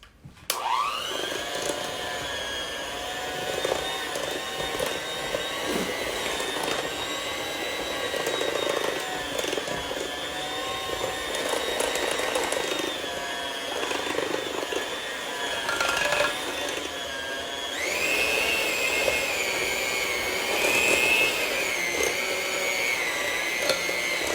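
An electric mixer beats strawberry cake batter made with a box mix, giving a steady, loud motor whine that runs nonstop for about 24 seconds with no talk. The pitch shifts slightly near the end.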